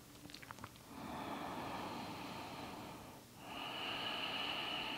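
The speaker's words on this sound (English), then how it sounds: "we can come into this Ujjayi breathing, if you like, victorious breath in and out of the nose, and that ocean sound through the back of the throat" Ujjayi yoga breathing through the nose, a close, steady oceanic rushing sound from the back of the throat, one long exhale followed by a brief pause and another drawn breath, with no talking.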